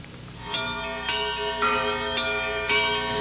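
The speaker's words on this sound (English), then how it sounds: "the bells were brought from Russia to ring out over Hebron" Russian-made church bells of an Orthodox monastery in Hebron ring out in repeated overlapping strikes, their tones sustaining and layering into a steady, resonant peal heard from a moderate distance.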